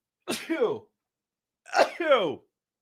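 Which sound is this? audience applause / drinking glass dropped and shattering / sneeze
sneeze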